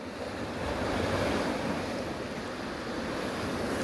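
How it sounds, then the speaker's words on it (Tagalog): Strong sea waves surge and wash along the Korean east coast, a continuous loud roaring hiss of surf with wind over it, steady throughout with no talking. "Kaya lang grabe lagi ang alon dito,"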